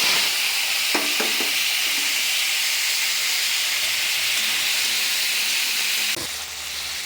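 Mustard seeds tempering in hot oil for a Bengali tomato chutney, a steady bright hiss and sizzle with a few light pops and clinks, easing slightly near the end.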